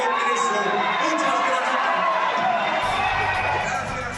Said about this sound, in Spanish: luego de estos abucheos